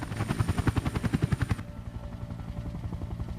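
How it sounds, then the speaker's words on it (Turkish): A video game helicopter lowering someone by rope, its rotor chopping in a loud, steady rhythm that suddenly drops to a quieter, muffled thump for the rest of the moment. "Helikopterle birini indiriyorlar."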